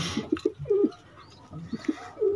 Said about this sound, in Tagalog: So ito pala yung mga kalapate mga kalapatids.